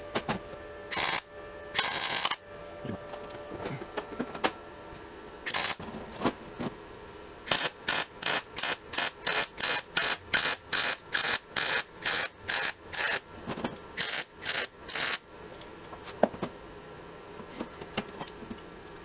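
A hobbyist MIG-welds a new exhaust onto a Nissan S13 convertible, with a quick series of short, evenly spaced crackling bursts from the welder, close and fairly loud, and no talking.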